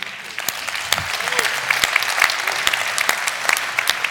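Sustained audience applause following a French-language talk, steady and fairly loud throughout with dense clapping filling the room.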